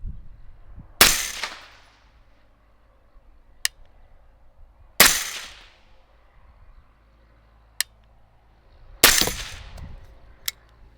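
A suppressed carbon fiber Crown Precision CP-15 Elite AR-15 rifle fires three sharp, evenly spaced shots, each with a short tail, with fainter clicks between them and no talking.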